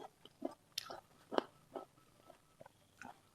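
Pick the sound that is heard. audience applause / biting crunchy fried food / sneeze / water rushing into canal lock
biting crunchy fried food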